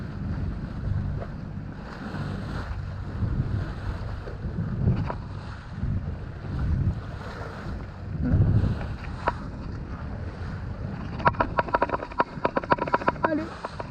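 Wind buffets a sailboat crossing the Strait of Messina, a steady rushing roar on the microphone with low gusty rumbles and water slapping, someone speaking intermittently over it, and a rattling clatter near the end.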